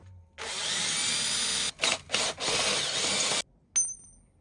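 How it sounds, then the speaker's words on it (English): A power drill whirs steadily as it bores into a metal sprocket, stalling and catching briefly near the end before stopping, followed by a small metallic clink. "All I have to do then is drill out where it's going to bolt to the axle."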